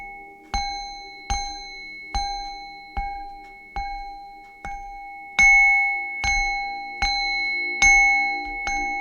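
A small bell is struck about eleven times in a slow, steady rhythm, each clear ring decaying before the next, some strikes louder than others, close and with no talk.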